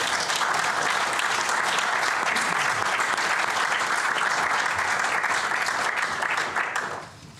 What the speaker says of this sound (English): a round of applause for Amber.